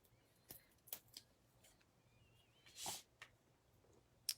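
Faint, sparse snips and rustles as scissors trim excess paper from a craft card, a few quiet cuts spread out with one louder swishing rasp partway through.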